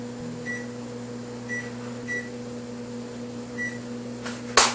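A kitchen oven timer is set to 22 minutes while squash bakes: four short, faint beeps spaced irregularly over a steady appliance hum, ending with a brief clatter.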